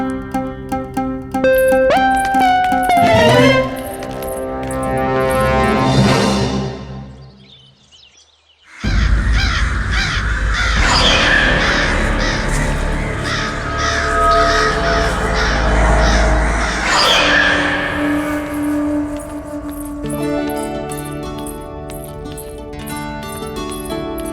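Crows caw repeatedly in a period drama scene, the harsh calls sounding fairly close over a steady musical background, with a brief quiet gap before the cawing and music resume.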